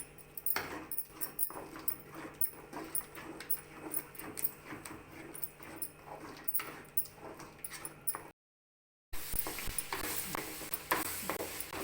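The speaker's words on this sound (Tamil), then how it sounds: "அடி பிடிக்காம நல்லா கிண்டிக்கிட்டே இருக்கணும்" Carrot halwa stirred in a pan with ghee, a spoon scraping the bottom in quick irregular strokes, close and fairly faint, continuing after a brief gap.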